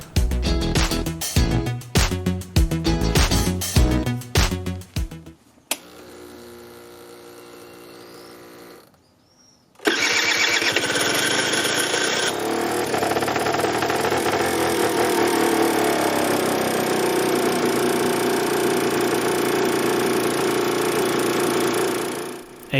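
A 2001 Aprilia SR50 DiTech scooter with 7,000 km, started cold: rapid rattling cranking bursts for several seconds, a short pause, then the small two-stroke engine catches and settles into a steady, buzzing idle close by.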